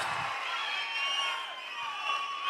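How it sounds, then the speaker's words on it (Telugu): Large crowd at a political rally in Markapuram cheering and whooping, a steady wash of voices and applause filling the whole moment at moderate distance. "జ్ఞాపకం ఉంటే గట్టిగా చప్పట్లు కూడా చెప్పండి"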